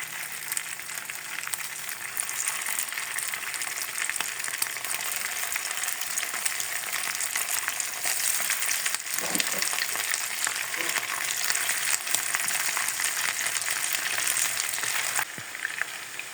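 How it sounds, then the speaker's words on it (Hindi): Chicken pieces frying in hot oil in a pan for chicken chow mein, a loud, dense, continuous sizzle with a brief stir partway through, close-up with no voices. "अब इसमें हम चिकन को शामिल करेंगे और चिकन को हम हल्का सा फ्राई कर लेंगे।"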